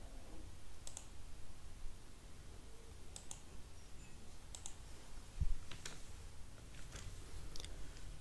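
Several faint computer mouse clicks come while a link is opened on a download page for an exam admit card, quick isolated ticks spread across a quiet background with one slightly louder knock.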